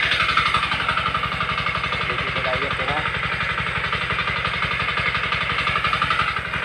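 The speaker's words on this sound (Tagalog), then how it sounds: "Sa hirap ng tubig dito, gumagamit na ng makina para makapagpatubig." A water pump engine runs for farm irrigation, chugging with a rapid, even, steady mechanical pulse close by, while a person talks over it.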